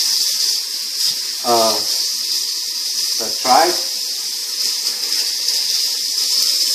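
Water running steadily into a pot over tripe for menudo, a constant close hiss of flow with someone talking briefly over it.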